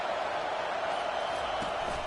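A stadium crowd in a college football video game roars for the defense on third down, a dense, steady wash of cheering noise that rises slightly, with no distinct voices.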